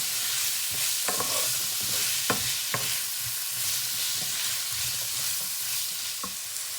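Vegetables for vegetable rice sizzle and fry in a pan, with a steady hiss broken by several sharp clatters as they are tossed and stirred.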